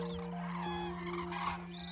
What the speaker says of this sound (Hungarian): Ott jobbra hátul a nagy távolban nagy lilikek szállnak ki, ott is néhány száz madár